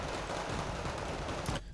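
Dense, continuous tank gunfire and battle noise in the real-time strategy game Wargame Red Dragon, a steady loud roar of overlapping shots that cuts off abruptly near the end.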